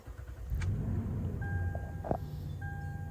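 A 2015 Toyota Sequoia second-generation SUV's engine idles steadily after starting, a low continuous rumble close by, with a couple of brief electronic chimes or beeps above it.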